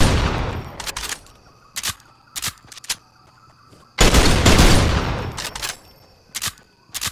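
Video game gunfire crackles in short bursts and single shots, with two long, heavy volleys of rapid fire, sharp and close, separated by brief silent gaps.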